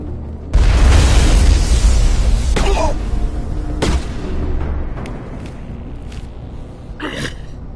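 A grenade explosion in Mass Effect 1 bursts in with a loud, deep boom and a long rumbling tail, followed by scattered sharper bangs and debris-like crackles that fade under lingering game ambience.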